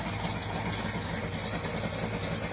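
Steady engine idle at about 850 to 900 RPM, a continuous even low rumble with a fan-like broadband hiss, no talking over it.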